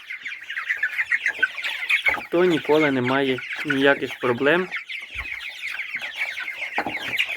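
Chickens cluck and squawk nearby in short bursts, while a person talks over the birds.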